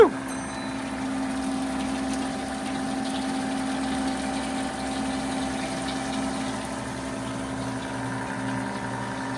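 A 90-year-old gas station pump runs steadily after being switched on, a continuous motor hum with a steady pumping drone, close and even throughout without a break.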